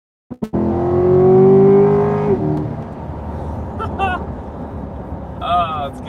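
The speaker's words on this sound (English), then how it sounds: "so I hit the Z mode and I'll accelerate. The noise definitely gets better" A 2021 Chevrolet Corvette Z51 convertible engine accelerates in Z mode, a loud climbing engine note that sweeps upward for about two seconds before a shift, followed by steady road roar and brief tire or wind chirps.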